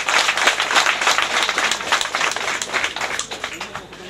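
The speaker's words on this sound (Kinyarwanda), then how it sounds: "twaba twamushimiye n'amashyi menshi cyane" Guests at a graduation party applaud together, a steady wash of many hands clapping at close range that stays fairly even and fades slightly toward the end.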